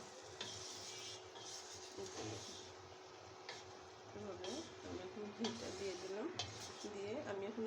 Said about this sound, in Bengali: ঘি দিয়ে আবার একটু এভাবে আমি নেড়ে চেড়ে দেবো